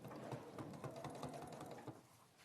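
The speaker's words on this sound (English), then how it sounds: "I'm going to sew very close to the edge" Sewing machine stitching close to the edge of quilt binding, a steady fast mechanical whirr with rapid needle ticks, fairly quiet and continuous, slowing near the end.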